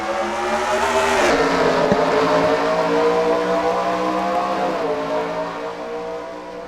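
NASCAR Cup race cars in the NASCAR Racing 2003 game thundering through the green-flag start at the Toyota Owners 400, a dense, loud pack roar with rising engine pitch that swells early and then holds steady.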